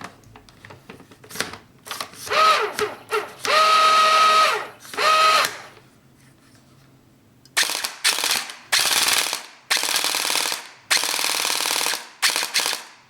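A Firecow M249 SAW gel blaster fires in bursts of rapid, buzzing full-auto shots, some long and some short, separated by brief pauses, loud and close with no talking.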